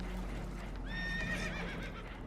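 Spooked horses whinny sharply in Red Dead Redemption 2 aboard a boat taking on water, a single shrill neigh rising over a steady low rumble, faint hoof clatter and background noise.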